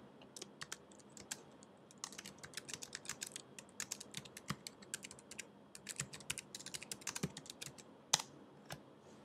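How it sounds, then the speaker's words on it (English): Rapid, irregular clicking of computer keyboard keys as text is typed, close and fairly quiet, with short bursts and brief pauses and no talking. "if you type an asterisk, a space, some text, and then press Return, the next line automatically begins with an asterisk"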